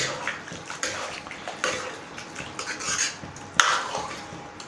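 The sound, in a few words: stirring nutri soya chunks and water in pot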